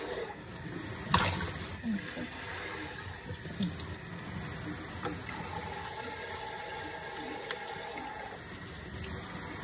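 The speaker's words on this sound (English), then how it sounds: "I'm going to rinse it out. You don't want to get the bottom real wet." A Pampered Chef kitchen appliance is rinsed out under a running tap, water splashing steadily and close for the whole stretch, with a brief louder gush near the start and no talking.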